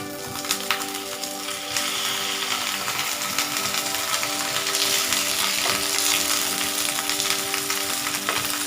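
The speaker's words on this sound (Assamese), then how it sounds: "পাতৰিটো উলিটিয়ে পেলাই আকৌ 10 মিনিটৰ কাৰণে মিডিয়াম টু লো ফ্লেমত সিজিবলৈ দিম।" Ilish fish paturi sizzling steadily in a pan over a medium-low flame, a continuous close frying hiss with faint crackles throughout and no voices.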